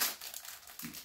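Cardboard window of a Lego City advent calendar (set 60381) torn open and crinkled, a short papery crackle that starts loudly and then rustles softly for about a second.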